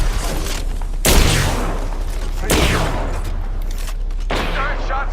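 Gunfire bursts in a battle royale shooter game, Apex Legends or Fortnite, with three loud booming volleys a second or so apart over a steady rumbling backdrop.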